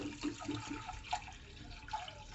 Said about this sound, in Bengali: একটা প্রেসার কুকারে আমি ডালটা দিয়ে দিচ্ছি পরিমাণ মতো জল